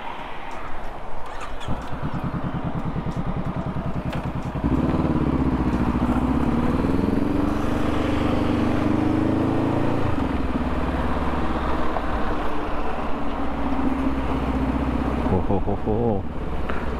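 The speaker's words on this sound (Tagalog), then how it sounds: "Maingay nga naman talaga yung ating motor." Loud motorcycle engine under way on a solo ride, a rough low drone that rises in pitch and intensity as the bike accelerates, steadying and then easing off near the end.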